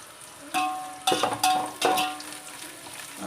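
Biryani ingredients sauté in a pan, with three or four distinct metallic scraping strokes of a spoon over a soft sizzle.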